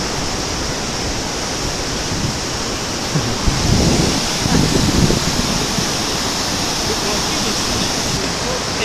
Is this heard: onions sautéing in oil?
no